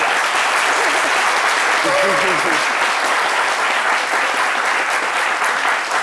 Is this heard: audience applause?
yes